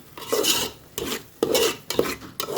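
Spices and masala fry in a pan for an egg curry as a utensil scrapes and stirs in four or five rhythmic bursts, each a close, gritty rasping sweep over a soft sizzle.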